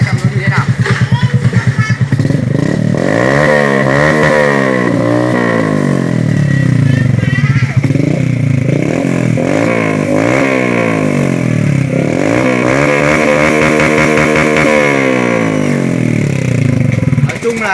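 Motorcycle engine revved hard with its exhaust baffle removed, loud and close, with repeated rising and falling throttle blips and a raw, rasping exhaust note; a voice talks over the engine at times.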